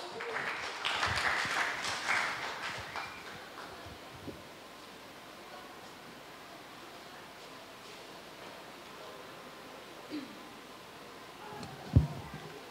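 An audience at a 2024 devotional reflection competition claps for a few seconds, a fairly faint, dense patter that fades out and leaves quiet room tone with one sharp knock near the end.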